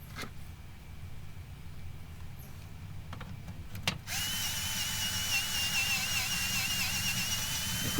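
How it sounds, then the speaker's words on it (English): A cordless drill whirs steadily, cranking down the scissor jacks on a 5th wheel camping trailer; after a few brief clicks it runs continuously and fairly loud for several seconds. "using the drill to put those scissor jacks down really speeds up the process"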